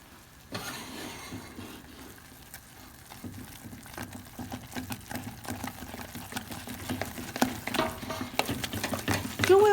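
Choux pastry dough is stirred vigorously with flour in a pan, producing rapid, uneven scraping and thudding strokes that grow busier and louder over several seconds, with no talking.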